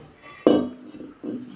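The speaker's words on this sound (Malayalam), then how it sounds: "സ്വന്തം അലമാരി തുറന്ന് ഉള്ള പാത്രം എല്ലാം ഇറക്കി താഴെ ഇടുക" A baby pulls metal pots and vessels from a kitchen cupboard and drops them on the floor, producing a sharp clanging crash followed by a second, softer clatter nearby.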